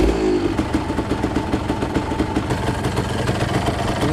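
A Yamaha DT200WR motorcycle with a low-voltage fault running just after a kick start, its engine putting out a loud, steady, rapid putter with a slight clattering edge, up close and continuous.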